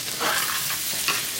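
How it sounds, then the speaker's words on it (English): Vegetables and spices being stirred in a cooking pot, making a close, loud, brief scraping and sizzling swirl that lasts about a second and a half with no voices. "we will just stir our veggies in the spices"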